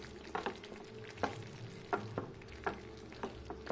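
A mango butter masala is stirred in a pan, with soft rhythmic scraping strokes repeating about every half second over a low, faint simmering bubble and no talking.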